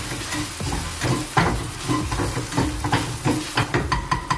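Chili and garlic sautéing in a pan for a Thai basil stir-fry, a close, loud sizzle broken by frequent rhythmic scrapes and clatters of a spatula stirring.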